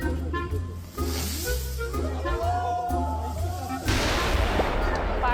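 Firecrackers set off during Vishu celebrations at an office, giving loud bursts with hissing and crackling over a steady din, the bangs thickening into dense crackle near the end.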